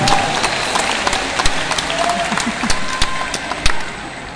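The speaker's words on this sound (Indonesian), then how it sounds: "Boleh tepuk tangan buat semua yang ada di sini." An audience at an Indonesian political speech and declaration event claps in a steady patter of applause, with a few louder individual claps standing out.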